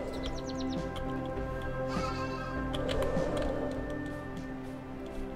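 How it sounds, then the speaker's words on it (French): A sheep bleats repeatedly in the video game AER Memories of Old, wavering calls over a steady ambient music bed with a few faint bird-like chirps, and no one talks. "Alors il y a un lama ou un mouton. C'est un mouton."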